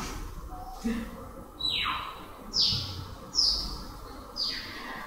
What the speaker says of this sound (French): Que tu entends l'oiseau